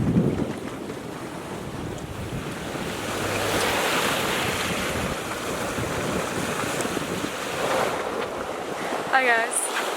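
Ocean waves wash and surge beneath a strong rush of wind buffeting the microphone at the bow of a sailboat on an open-water crossing off the Venezuelan coast, steady and loud throughout.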